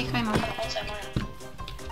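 A sheep in the video game Minecraft bleats in short wavering calls, fairly close, mixed under overlapping talk and game noise.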